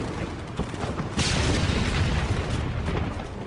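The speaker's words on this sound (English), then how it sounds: "The German guns opened fire." German guns open fire during the 1918 WWI naval raid on Zeebrugge, a dense rumbling barrage of booms and blasts that swells louder after the first second and rolls on continuously.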